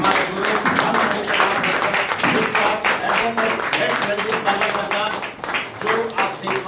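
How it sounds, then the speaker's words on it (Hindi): Crowd in a hall clapping loudly and continuously throughout, a dense steady wash of applause with voices mixed in. "आप सभी एक बार अपनी अपनी जगह पर खड़े होकर जोरदार ताली की बजाएं"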